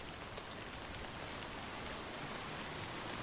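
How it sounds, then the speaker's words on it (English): Timefall rain pours steadily in the video game Death Stranding, a dense, even hiss of falling drops with a single brief tap near the start. "It's raining out there."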